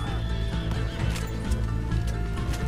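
Horse neighing and clip-clopping in the video game Red Dead Redemption 2, a loud close whinny over steady hoofbeats, with a faint voice in the background.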